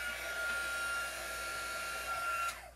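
Heat gun warming epoxy resin, a steady close whooshing blower with a constant high whine that winds down at the end.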